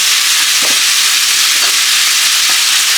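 Italian sausage, pancetta and ground beef browning in a pan as the meat is broken up, a loud continuous sizzle with a few soft scraping stirs.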